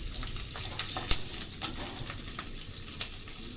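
Slit green chilies and five-spice seeds crackle in hot oil in a kadhai, a faint steady sizzle dotted with small pops and a few sharp ticks, no one speaking.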